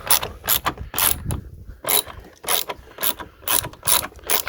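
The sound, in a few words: long reach ratchet loosening car battery nut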